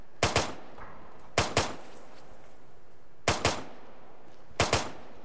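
Gunfire in the video game Arma 3, four sharp bursts of paired shots spaced about a second or more apart, loud and close against a quiet background.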